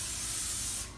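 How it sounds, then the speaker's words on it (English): A can of cooking spray hisses in one loud, continuous burst for about a second while coating food in a kitchen, then cuts off. "just gonna spray these with"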